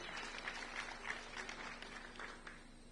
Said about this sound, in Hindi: चाहूंगा जोरदार तालियां सुनील मुंदड़ा जी के लिए।